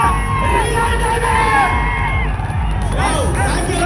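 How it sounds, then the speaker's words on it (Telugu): A large crowd cheers, whoops and yells loudly and continuously at a celebration gathering, with a few voices shouting above the dense roar and probable clapping mixed in. "ఒకసారి గట్టి క్లాప్స్ అవ్వాలి బాసా సార్కు"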